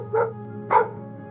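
Two short dog barks roughly half a second apart, with a third starting at the very end, close and moderately loud over a steady background hum.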